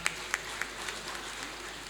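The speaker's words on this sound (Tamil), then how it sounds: "நல்ல பலத்த கைத்தட்டல் தரலாம்" Applause at a Rotary Club installation function in Vellore, a fairly distant, sustained patter of many hands with a few sharper claps standing out near the start.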